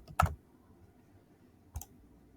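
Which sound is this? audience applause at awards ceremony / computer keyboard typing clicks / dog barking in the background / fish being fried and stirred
computer keyboard typing clicks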